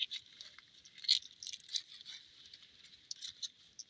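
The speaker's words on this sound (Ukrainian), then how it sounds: "Зараз я кілька горішків вилущу" Freshly ripened hazelnuts are shelled by hand in an orchard in early August: faint, close, irregular crackles and snapping husks come in small bursts, with no talk.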